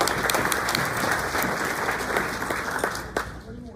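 A round of applause at a graduation event rolls through the room as a dense, steady patter of many hands clapping, holding fairly even before tapering off at the end, with a voice faintly present.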